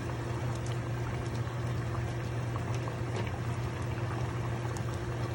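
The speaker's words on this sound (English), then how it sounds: "Now I'm going to add the fish that I fried off right into that sauce." Fried fish simmering in a Jamaican-style brown stew sauce, a continuous close bubbling hiss with faint pops, even and steady across the whole stretch without speech.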